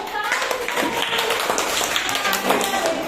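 Schoolchildren perform the PPK clapping chant in a classroom, their hands striking in quick rhythmic patterns close by while voices talk and call over the claps.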